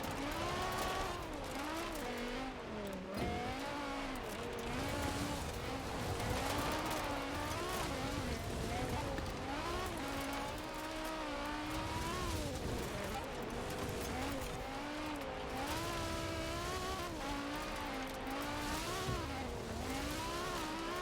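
A BMW M3 E30 rally car in Forza Horizon 4 revs and shifts continuously through a rally race, its engine note rising and falling steadily, with a voice talking over it.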